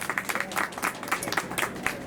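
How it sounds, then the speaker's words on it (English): An audience at an Amelia Earhart plaque unveiling breaks into applause, a dense, steady patter of many hands clapping at moderate distance with no break. "that deserves a round of applause"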